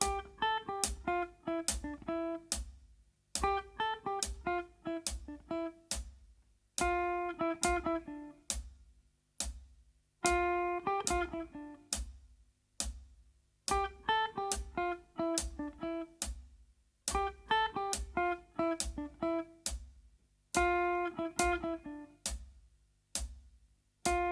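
Plucked guitar notes trace a simple pentatonic scale melody in short repeating phrases, each note ringing clearly with a steady, unhurried rhythm and no voices.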